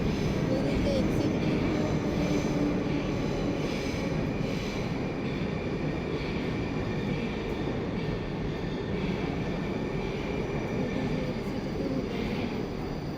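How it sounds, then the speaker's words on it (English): A metro train rumbles steadily through an enclosed underground station in Moscow, a continuous low roar with faint higher hiss, fairly close and constant throughout. "this is the metro station"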